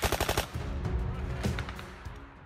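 An M249 SAW light machine gun fires a rapid, loud burst of closely spaced shots, then keeps up a dense, roaring stream of automatic fire with a second sharp burst midway.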